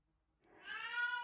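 A cat lets out a single drawn-out meow that starts after a short silence, close and clear, swelling in strength and holding to the end with no other sounds.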